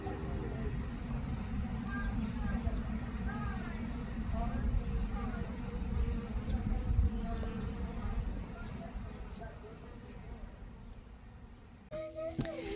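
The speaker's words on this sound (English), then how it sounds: "the bees were able to come in and out and slowly learn where their new home was" Honeybees buzz around a new hive on a homestead, a steady insect drone close by with faint voices underneath.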